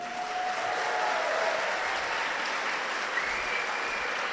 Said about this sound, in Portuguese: Só um aplauso